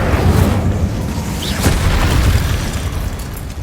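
A fire spell from the Hogwarts Legacy video game blasts with a loud, sustained roaring boom and crackle lasting the whole few seconds, with a brief sharp burst midway.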